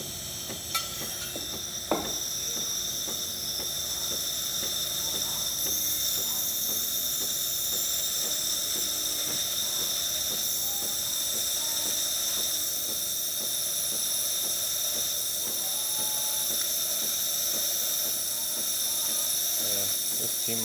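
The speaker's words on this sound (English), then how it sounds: "So testing the steamer. It takes a little bit until it gets steaming." Steam wand of a Breville Barista Express espresso machine hissing continuously, a steady, bright, even rush with a faint tick near the start and no voices.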